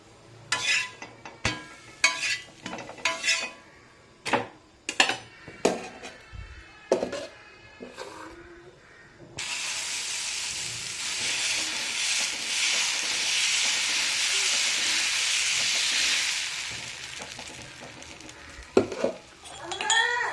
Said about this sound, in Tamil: நம்ம அடுத்த தோசை நான் எப்படி ஊற்றுறேங்கிறத பாருங்கள்.